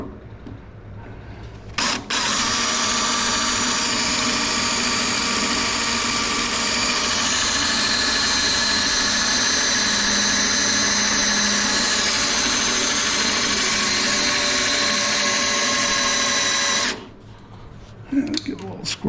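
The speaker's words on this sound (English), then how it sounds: "When I add some oil to it, I can smell the bit getting hot." A drill bit bores steadily into metal while installing an AirDog 150 fuel system on a second-generation Cummins truck, with oil added to the hot bit. The drill starts abruptly, holds a loud, even whine for about fifteen seconds, then stops.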